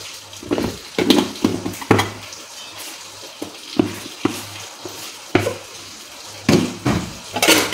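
Semolina is roasted in a pan with a spoon, giving intermittent scraping and stirring clinks against the metal, with a soft dry rustle between the stirring strokes and no talking.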